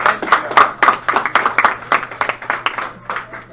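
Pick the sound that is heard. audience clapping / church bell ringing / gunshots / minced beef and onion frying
audience clapping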